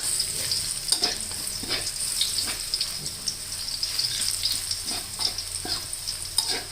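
Garlic sizzles steadily in a hot pan, a continuous bright frying hiss with occasional stirring clatters and small pops, close and alone with no talk, while it is cooked for stir-fried pork with banana peppers.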